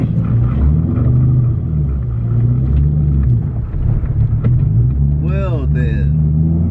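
A Ford Mustang Cobra rumbles low and heavy while it idles and creeps out of a driveway, its deep engine tone steady under voices speaking inside the car.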